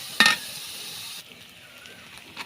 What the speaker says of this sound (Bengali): আমি এখন পেঁয়াজ কাঁচামরিচ দিয়ে দিলাম, সাথে রসুনও দিচ্ছি। ভালোভাবে নাড়াচাড়া করতে হবে।